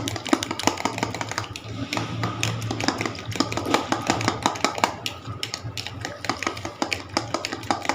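Eggs being beaten briskly in a glass or cup, a fast continuous run of clicking and tapping strokes against the sides, close and fairly loud, with faint bits of voice now and then.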